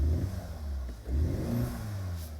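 A 2025 Cupra Terramar engine revs with strong induction noise, a low, full growl that rises, dips briefly, then swells again, heard from inside the cabin with no talking.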